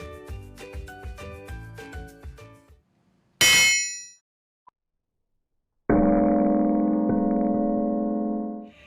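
A hammer strikes a diamond: sharp metallic clangs ring out in quick succession, then a bright crack, silence, and a long sustained ringing tone that slowly fades.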